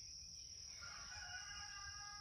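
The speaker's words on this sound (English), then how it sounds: "that rooster's going crazy and it keeps distracting me." A distant rooster crows faintly, its call rising and falling over a steady background of insect buzz and hum.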